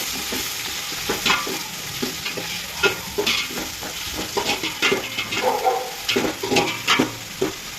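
Onions fry loudly in a pan for a chicken kurma, with a continuous sizzle broken by frequent scraping and clattering from stirring. The scrapes come in an irregular rhythm throughout.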